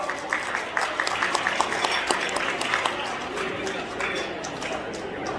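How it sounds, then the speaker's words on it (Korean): Audience applause at a gathering of civic group leaders preparing an Easter union worship service, steady clapping from many hands throughout, moderately loud with faint crowd murmur underneath. "여러분 큰 박수 부탁합니다"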